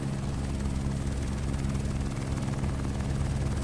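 Steady, continuous helicopter rotor and engine drone from a flight simulator game, low thrumming with even loudness throughout, no voices.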